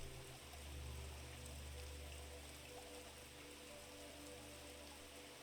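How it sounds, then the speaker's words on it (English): Steady broadband rush of flowing water from a stream in a forest clearing at night, continuous and even with a low rumbling undertone, no voices. "you find your way to that sound of flowing water"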